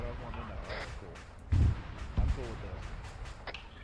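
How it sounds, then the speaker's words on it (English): Explosions from a T-72 tank cooking off in the military game Arma 3: two heavy, booming low thuds about half a second apart, heard under steady radio-style talk. "That's the T-72 cook-off."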